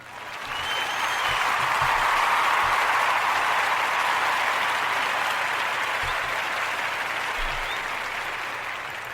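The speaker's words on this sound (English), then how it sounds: "I'm going to give you a round of applause" An audience breaks into sustained applause, a dense wash of clapping that swells quickly and holds steady before slowly thinning toward the end, with no speech over it.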